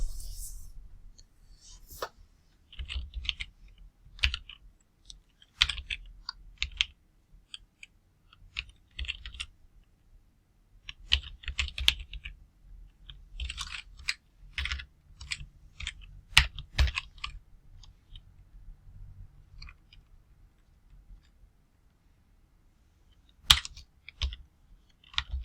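Computer keyboard typing in bursts of quick, uneven clicks and key taps, fairly close and quiet, with short pauses between runs and no talking.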